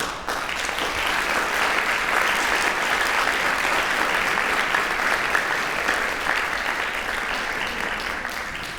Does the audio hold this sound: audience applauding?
yes